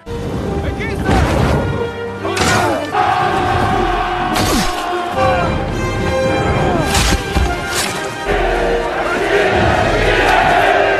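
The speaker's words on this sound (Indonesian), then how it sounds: "Pertempuran pecah di tepi pantai Troya." Film battle on the beach of Troy, with a loud, continuous din of crowd shouts, battle cries, crashes and booming impacts layered over dense music throughout.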